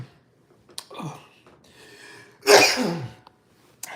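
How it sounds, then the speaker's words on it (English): A close sneeze, an intake of breath building into a loud burst, followed by a softer sniff and breathing. "had to sneeze."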